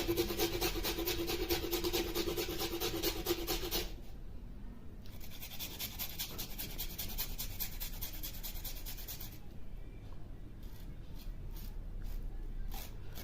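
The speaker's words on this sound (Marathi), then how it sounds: "आपलं सेकंड इन्ग्रेडियंट आहे आलं, ज्याला जिंजर म्हणलं जातं। ते थोडं किसून घ्यायचं 1 इंचभर।" Fresh ginger, about an inch, is grated by hand: fast, steady rasping strokes, close and fairly loud, pausing briefly twice before the scraping resumes, with no talking.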